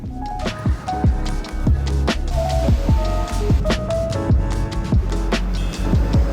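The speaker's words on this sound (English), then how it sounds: "On the way back to Osaka, it started raining pretty hard" Rain falls steadily near Osaka, with scattered heavier drops splatting and tapping on a nearby surface amid a continuous wet hiss.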